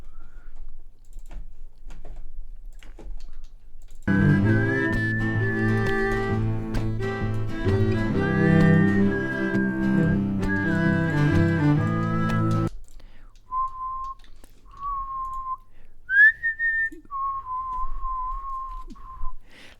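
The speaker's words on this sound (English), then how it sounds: "My whistling range is very small." A person whistles a melody in short rising and falling phrases, first over a dense backing track of instruments, then alone with sparse held notes, with light clicks like keyboard typing in between.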